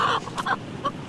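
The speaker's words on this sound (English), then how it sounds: "Will it really take that long to move a chicken?" A chicken gives a few short, close clucks in quick bursts, with brief quiet gaps between them and no talking.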